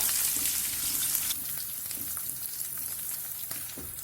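Garlic and shallots fry gently in vegetable oil over lowered heat for a Bengali chicken stew, giving a steady soft sizzle with faint crackles that eases slightly after the first second, and no voices.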